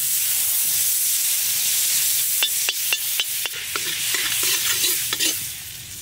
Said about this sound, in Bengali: এলাচ আমি শুকনো খোলায় একটু ভেজে নেব। দিয়ে দেবো বাটার,